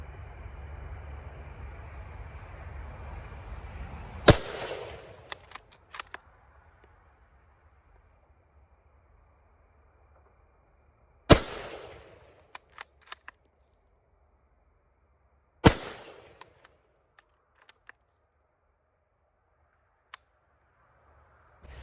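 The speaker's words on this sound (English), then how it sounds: "Did I fire 3 shots or only 2?" An 8mm rifle firing 1938 Turkish surplus ammunition outdoors: three sharp, loud single shots spaced several seconds apart, each followed by brief echo and faint handling clicks, with steady background noise before the first shot.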